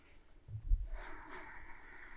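During a full-body stretching session a person takes one close, audible breath in, then releases a longer soft breath out, quiet and unhurried.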